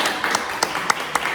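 A church congregation at a healing and deliverance service claps in a loose, irregular rhythm, moderately loud, with a crowd murmur underneath.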